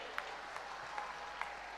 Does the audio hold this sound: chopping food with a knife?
no